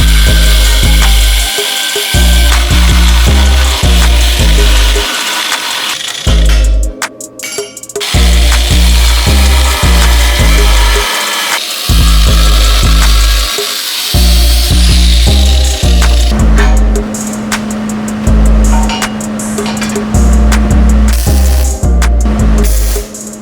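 Power tool cuts metal end plates for a custom rear bumper and hitch on a Toyota pickup, loud whining bursts that start and stop repeatedly with short pauses and clattering between, one longer steady grind near the end.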